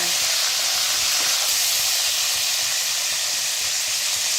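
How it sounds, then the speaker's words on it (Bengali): Pointed gourd (potol) fries in hot oil with a loud, continuous hiss and sizzle, close up and steady, with no talking. "পটলগুলো কিন্তু ভালোভাবে এইভাবে ঘুরিয়ে ঘুরিয়ে চারিদিকে ভেজে নিতে হবে, যাতে সব দিকেই ভালোভাবে ভাজা হয়।"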